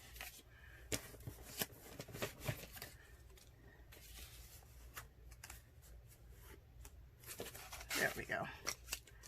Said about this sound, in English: we need to rip this kind of, there we go